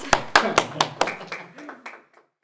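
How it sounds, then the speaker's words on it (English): Film crew claps on set after a short-film take wraps, a few loud close claps followed by scattered softer clapping that tapers off, with voices murmuring underneath. "Round of applause."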